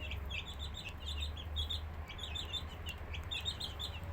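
Guinea fowl and green-egg chickens kept on a balcony give repeated high chirps and calls over a steady low background hum, with no talking.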